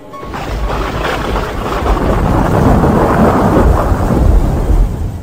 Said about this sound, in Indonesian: Hujan pun turun semakin deras.